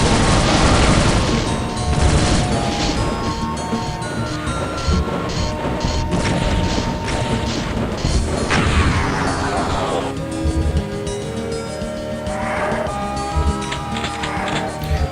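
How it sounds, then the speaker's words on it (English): Rockets in the video game Doom explode against the player in rapid succession, loud booming crashes and thuds layered over dense game noise, one blast after another. "Just taking rocket after rocket on the chin."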